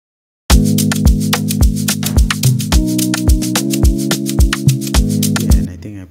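A reversed Afro-Amapiano sample built in FL Studio, pitched down an octave, plays alone with steady sustained harmonic chords under a regular pulse of swelling backward-sounding hits that fade out near the end.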